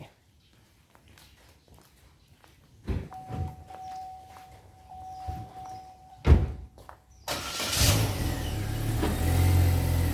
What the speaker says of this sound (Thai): โอเคเอนจอยเดี๋ยวปิดประตูให้